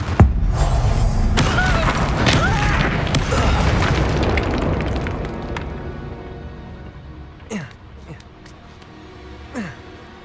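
Confringo blasting-curse explosions from Hogwarts Legacy burst in a loud, rumbling cluster of booms that fades over several seconds, followed by two smaller sharp pops near the end.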